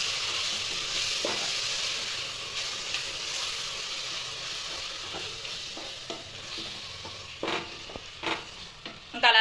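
Biryani masala powder sizzling in a hot pan as a spoon stirs it, hissing frying noise with scattered scraping knocks, growing busier toward the end.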